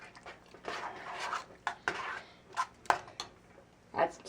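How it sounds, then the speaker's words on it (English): A spoon stirs milk and beaten egg into green rice in a bowl, giving a string of soft, close clinks and scrapes at an uneven pace. "And we'll stir all that up."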